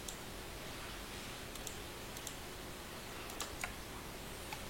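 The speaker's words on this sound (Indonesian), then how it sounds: "Ini sambil menekan tombol Alt di keyboard." Computer keyboard keys pressed during coding work, including the Alt key, heard as a few faint, sparse clicks scattered over a quiet room hiss with no voice.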